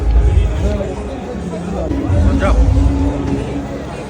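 Dense crowd babble fills a busy food fair selling kebabs, dried fish and pork, a steady hubbub of many overlapping voices close around, loud throughout.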